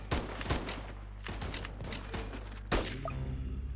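Scout tower gunfire in Tower Defense Simulator, a run of quick, sharp game shots at irregular intervals over a low droning game backdrop, fairly faint.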